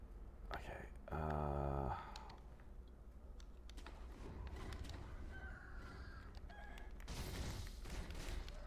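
A rooster lets out one loud, close, harsh squawking call lasting under a second, followed by fainter scattered clucks and small background noises.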